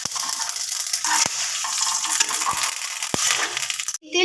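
A pinch of radhuni seeds and two bay leaves land in hot oil with dried red chilli and sizzle and crackle steadily up close, with a few sharp taps of a utensil against the pan.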